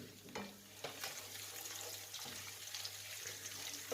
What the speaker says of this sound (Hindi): अब इस प्याज को भी इसमें हल्का सा बस फ्राई होने दें।